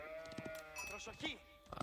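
Sheep bleat in a real-time strategy match of Age of Empires IV, short wavering calls that sit under a caster's steady commentary.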